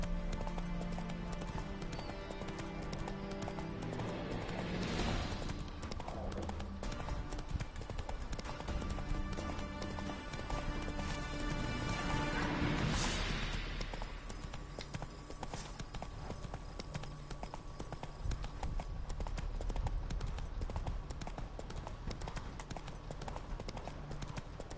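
Roach, Geralt's horse in The Witcher 3: Wild Hunt, gallops with a steady rhythmic clip-clop of hooves on ground, close and continuous, under game music and ambience.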